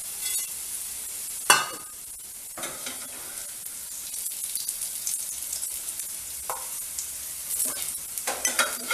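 Garlic frying in a generous amount of oil for Tamil-style garlic karam podi, with a steady soft sizzle and occasional louder bursts of stirring and spoon scraping against the pan.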